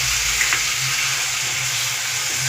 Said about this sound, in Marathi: आता हे परतून छानपैकी एकजीव झालेले आहेत